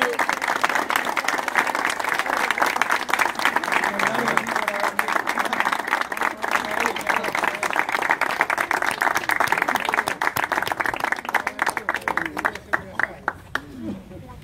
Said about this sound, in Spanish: vamos a darle nosotros un aplauso a todas las familias